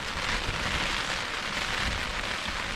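Steady rain drums on a Naturehike Cloud Peak two-person tent during a storm, a dense continuous patter heard close and alone with no talking.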